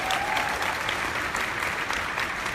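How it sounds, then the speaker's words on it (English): Audience at a home party clapping, a dense, steady round of applause from a room of people, sustained and fairly loud throughout. "Give her a round of applause."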